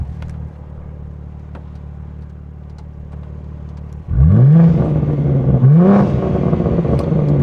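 From inside the cabin of a BMW G80 M3, the engine idles low, then revs sharply, with two rising and falling sweeps and a loud rumbling exhaust note.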